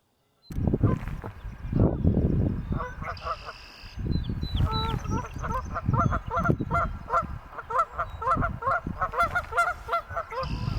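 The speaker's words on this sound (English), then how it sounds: "As more and more geese fly away" Geese honk repeatedly in a noisy chorus, calls overlapping and fairly close, with rustling and handling noise underneath.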